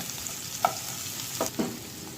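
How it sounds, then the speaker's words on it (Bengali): Onion hisses in hot oil with whole cumin and bay leaf, a soft continuous sizzle broken by a few clear spatula scrapes and stirs close by. "এরপর তেল দিয়ে ফোড়নে গোটা জিরে আর তেজপাতা দেওয়া হলো, পেঁয়াজটা দেওয়া হলো"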